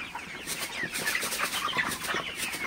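Thirty-four-day-old broiler chickens cluck continuously at dawn around 5 a.m. on a farm as they are given water, a dense, moderately loud flock chatter.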